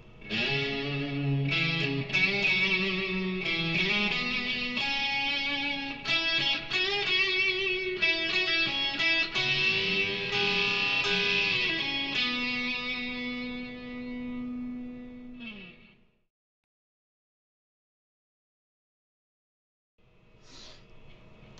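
A distorted electric guitar plays a fast solo lick, bending and sliding notes with effects, loud and alone for about fifteen seconds before stopping into silence, then a brief note returns.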